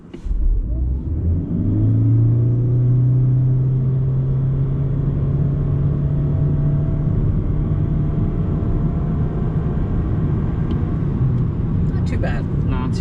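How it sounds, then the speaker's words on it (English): A 2023 Toyota Corolla Hybrid pulls away from a stop in a straight line, its engine note rising into a loud, sustained drone that holds steady, heard from inside the car. "Let's get a straight line acceleration from a stop here real fast."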